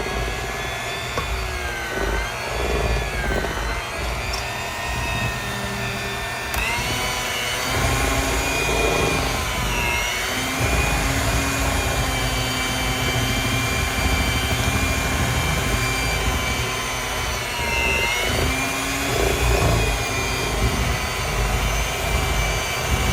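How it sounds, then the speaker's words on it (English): An electric mixer running on low speed through thickening cake batter for an apple toffee glazed cake, a loud continuous whirring motor hum with a steady whine, holding close and even throughout with slight wobbles as the beaters work. "Let me get the mixer now because it's starting to get thick."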